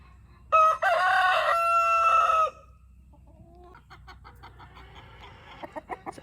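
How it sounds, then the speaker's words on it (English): A small old bantam rooster crows once loudly and close, a drawn-out call, followed by quieter scattered clucks and scratchy farmyard noises from chickens nearby. "It's a little Bantam rooster right there."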